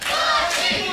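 Wrestling crowd at a CCW Surge indoor show, a loud, dense wash of many voices chanting and cheering together, sustained and close for a brief moment.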